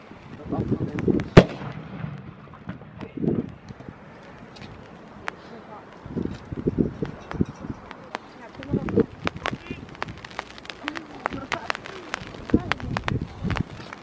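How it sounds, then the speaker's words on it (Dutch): Fireworks and firecrackers going off outdoors on a windy New Year's Eve, with scattered sharp bangs and crackling pops at varying distances, and people talking throughout. "Ze hebben nog niet heel veel geploft zoals je net zag."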